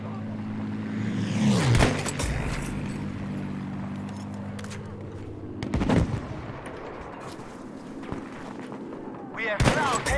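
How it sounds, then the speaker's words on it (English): Sniper shotgun firing in Battlefield 5, three loud separate blasts spaced a few seconds apart over rumbling battlefield and vehicle noise, with a voice talking. "It's actually a sniper shotgun."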